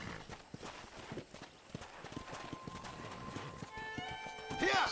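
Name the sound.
horse hooves and whinny in Red Dead Redemption video game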